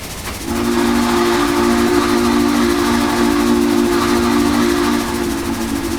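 A Texas & Pacific 2-8-2 H2 steam locomotive in the Trainz 2019 game sounds one long, steady, loud steam whistle blast lasting about four and a half seconds over a rumbling background.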